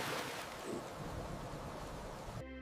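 Heavy rain pours steadily over a village at night in winter, a dense, even hiss of broadband noise with a low rumble, constant throughout and ending abruptly.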